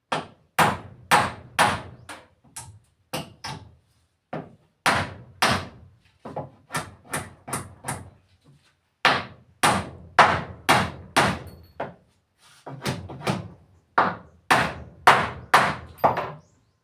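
Nails driven by hand into a wooden bench: loud, close hammer blows in quick runs of three to five strikes, separated by short pauses.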